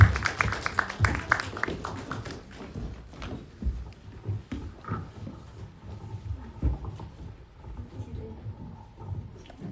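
An audience at a film festival Q&A applauding to welcome an actor and director: scattered, fairly faint clapping that is busiest at the start and thins into sporadic claps and shuffling.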